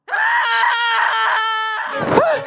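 A woman screams from behind a house in one long, loud, wavering cry that breaks into a strained, falling wail, heard close and without talk.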